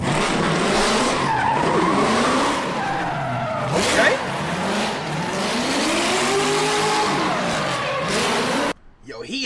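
A car drifts with sustained tire squeal and skidding, engine revving and rising in pitch, loud and close; voices talk over it throughout, and it drops away abruptly at the end.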